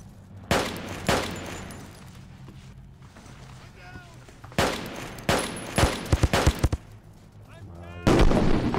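Gunfire and a grenade blast in the online shooter Army Troop: scattered sharp shots, a dense rapid volley in the middle and a loud explosion near the end, over low background rumble.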